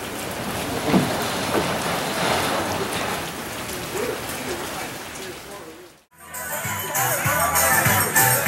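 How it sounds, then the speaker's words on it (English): Steady rain pours down as a dense, loud hiss, briefly cutting out before resuming with a sharper, brighter patter; voices are present in the background. "If it wasn't raining, it would be really nice."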